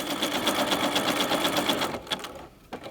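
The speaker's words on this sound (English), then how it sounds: "I'm going to go off camera and sew a little more" Sewing machine stitching a satin-stitch overlap seam on sheer fabric, a steady rapid mechanical whir that runs continuously for about two seconds, then slows and stops with a few faint clicks.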